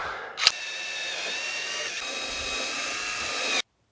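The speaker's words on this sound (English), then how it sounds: "Now I can take the bigger drill bit," A power drill fitted with a larger bit runs in one steady, continuous whine for about three seconds while boring holes during a dinghy rudder and oarlock installation, preceded by a brief click and cut off abruptly.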